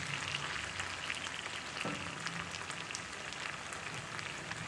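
Okra frying in a cast iron skillet, a steady dense sizzle and crackle of hot oil that holds evenly throughout, close and moderately loud with no voices.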